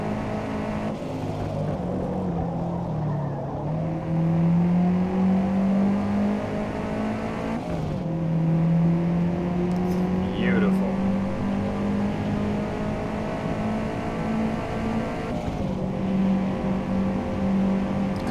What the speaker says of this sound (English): The tires skittering, the sounds of the curbs.